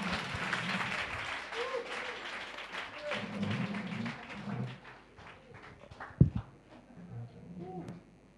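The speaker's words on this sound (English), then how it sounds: "Clap your hands and tell him thank you." Church congregation clapping hands during a service, a quiet, loose patter of applause rising and falling with voices mixed in and one sharp thump partway through.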